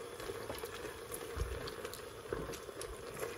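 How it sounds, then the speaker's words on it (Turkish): Meat sautéing with tomato paste in a pan, a steady, close sizzling and bubbling crackle with occasional louder pops, without talk. "Biraz da salçamı etlerimle kavuracağım"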